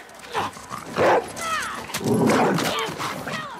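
Dog barking in The Last of Us Part II, sharp agitated barks and yips mixed with tense game sounds and shouting voices.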